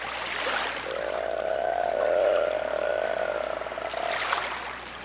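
A human voice imitates a seal's cry in an Inuit vocal game, a sustained, wavering, nasal wail held for several seconds, loud and close, with breathy sounds at the start and end.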